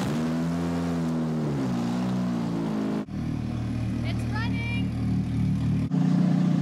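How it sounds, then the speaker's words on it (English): A massive homemade snow blower engine starts and runs, a loud throbbing motor note that cuts out abruptly, a lower rough idle with faint voices over it, then a sudden louder surge as it catches again. "we're just gonna make sure that the engine still runs and that we can turn it off"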